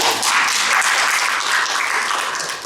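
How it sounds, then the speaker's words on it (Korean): Audience applause at a Korean sijo poetry book launch celebration: a loud, dense, hissing wash of many hands clapping together, steady before tapering off slightly at the end. "네, 박수 한번."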